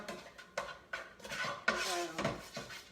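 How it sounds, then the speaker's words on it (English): A utensil stirs garlic, ginger and red peppers in oil in a pot on a medium-high stove, making irregular clanks and scrapes against the metal with soft sizzling between the strikes. "we're just going to stir this around so the oil can get on to all of our"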